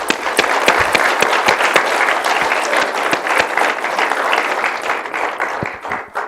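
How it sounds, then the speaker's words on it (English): An audience applauds panelists at the close of a conference session on Cuba and the Caribbean economy, with steady, dense clapping that stays loud throughout and tapers slightly near the end. "Let's have a round of applause for our great panelists."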